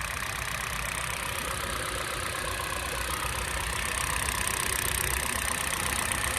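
A Hyundai Verna 1.6 SX's petrol engine idles steadily at close range, a continuous even hum with a faint mechanical rattle and no voices.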